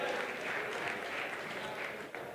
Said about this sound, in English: So can you please just give yourselves a huge round of applause for being here today.